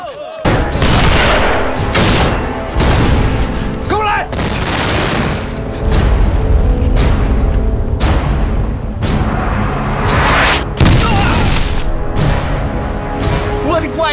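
Cannon shells pound a bandit mountain stronghold in a Chinese war action film, with repeated loud booming blasts and rumbling explosions every second or two over a dramatic score, with voices shouting in between.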